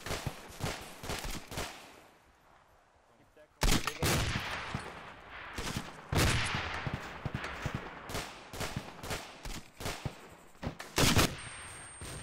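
Video game combat with gunfire and grenade launcher shots, bursts of sharp cracks and booms scattered irregularly across the clip, loud at times and quieter in between, with some voices mixed in.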